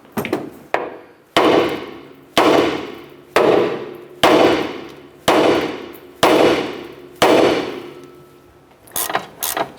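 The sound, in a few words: hammer striking steering knuckle to release ball joint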